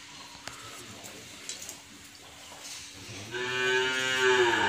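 Large cattle at a cattle farm, one bellowing a loud, long, close moo in the second half over faint background farm noise and distant voices.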